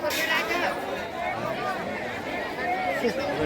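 Crowd chatter at a busy vegetable market in Shetganga, Mungeli block, Chhattisgarh: steady overlapping voices and bustle close around, a continuous babble with no single voice standing out.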